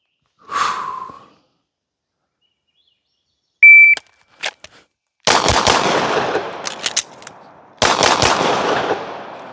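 Rapid gunfire in a shooting drill: after a few isolated beeps and clicks, a loud burst of three shots, a brief pause for a reload, then more close, sharp reports with echoing tails.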